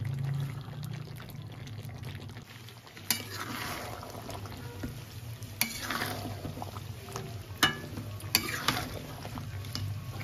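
Meat nearly done in a wok sizzles quietly with capsicum and green peas, while a spatula scrapes and clacks against the pan in irregular strokes.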